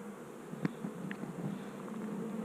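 Honeybees buzzing around an open vertical hive during an inspection, a steady low drone with a brief sharper buzz of a bee flying close past, no talk.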